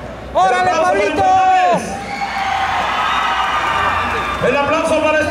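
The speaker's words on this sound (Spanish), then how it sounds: "¡El aplauso para Esperanza!" Audience applause and cheering at a contest, a lively crowd clapping and shouting beneath a loud announcer-style voice, with a sustained dense wash of claps behind it.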